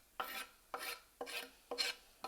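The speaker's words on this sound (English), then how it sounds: "Give that a nice stir." Mussels stirred in a pan of lemon garlic broth with parsley and zest, five rhythmic swishing, scraping strokes with soft sizzle, close and fairly quiet, no voices.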